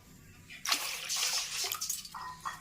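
Water poured into a cooking pot while making poda pitha, a splashing, gurgling pour that starts abruptly and runs steadily for about two seconds before tapering into a few fainter splashes.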